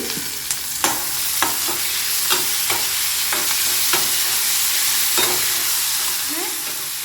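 Tomato frying in a pan, giving a steady close sizzle broken by repeated sharp scrapes and taps of stirring, with no talk.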